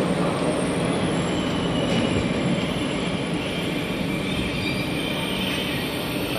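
A regional train arrives at the huge Gare Montparnasse terminus in Paris, its steady rolling rumble filling the hall, with wheel squeal and a high metallic whine over the station din.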